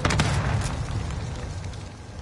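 A missile explodes in the Warzone shooter game with a loud, low rumbling boom that starts heavy and slowly decays over about two seconds, with no voices on top.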